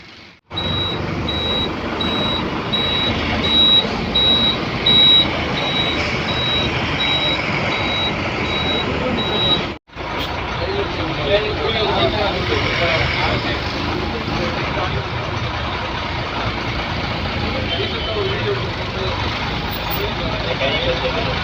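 Heavy road traffic with trucks and buses heard from inside a bus on a forest road through Thalamalai, Sathyamangalam, a dense continuous engine rumble with a steady reversing beep in the first half, then a brief cut and more traffic noise.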